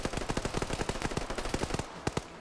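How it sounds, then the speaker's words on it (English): Rapid bursts of automatic gunfire ring out in a video game PvP match, a dense string of sharp shots in quick rhythm that thins to a couple of last isolated cracks, moderately distant. "Hearing some other gunshots from the side."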